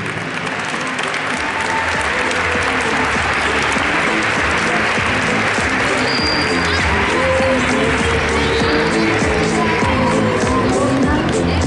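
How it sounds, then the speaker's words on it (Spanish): Loud, sustained applause from an audience at a sports school end-of-year closing ceremony in Zapala, continuous for the whole stretch, with crowd noise and some voices mixed in. "Fuerte el aplauso para todos ellos también"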